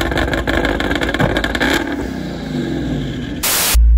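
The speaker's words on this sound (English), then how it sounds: "This is still a first gear leave." A twin-turbo Ford Mustang GT launches hard in first gear at a drag strip, its loud engine roaring and climbing steadily for several seconds before a sudden burst of noise and a cut.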